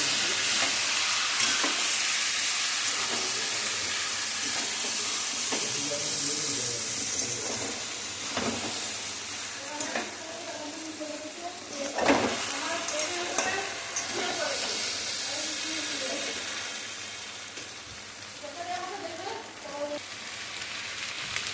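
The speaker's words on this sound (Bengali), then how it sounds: "দিয়ে একটু নাড়াচাড়া করছি" A paste of ground poppy seed, mustard and green chilli being stirred and scraped in a hot pan, with a steady sizzle and hiss throughout and intermittent spatula scrapes, mostly without talk.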